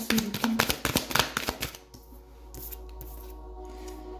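Tarot cards shuffled and drawn for a reading: a quick run of crisp, close paper flicks and snaps, then a softer slide and tap as a card is laid down over a faint room hum.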